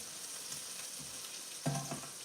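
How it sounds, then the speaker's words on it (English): Shiitake mushrooms sautéing in a hot pan, a soft continuous sizzle and crackle, with a brief louder stir or toss near the end, no talk. "I want my mushrooms to kind of get a really good saute on them and get their flavors out"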